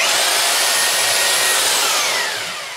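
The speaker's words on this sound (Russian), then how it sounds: "И перемешиваю перфоратором." A hammer drill whirs loudly and steadily as it stirs apricot mash mixed with rehydrated fruit-brandy yeast, a continuous close motor whine that eases off at the very end.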